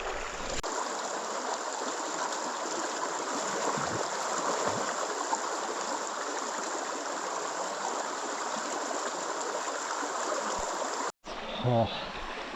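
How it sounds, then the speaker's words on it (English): River rapids rush in a constant, full hiss of flowing water close by, broken by a brief dropout and a splash of movement near the end. "I'll just jump in these rapids here"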